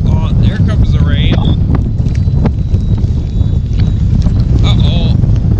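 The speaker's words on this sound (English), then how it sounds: "Oh, here comes a big gust of wind." A big gust of wind sweeps across a microphone outdoors at night in the wilderness, a steady loud roar of buffeting broadband noise throughout with rain arriving, and a person talking over it.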